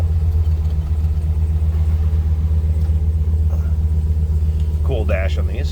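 A 1965 Chrysler Newport engine idles steadily in neutral, a loud, even low rumble filling the whole stretch, with a brief clatter of other sounds near the end.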